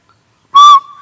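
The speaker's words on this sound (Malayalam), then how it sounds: "ഇതാണല്ലോ എനിക്ക് ചൂളം പുളി, പൂവാലം പുളി." A person whistles a single short, loud, clear note that holds steady for about a quarter second before dropping to a faint trailing tone.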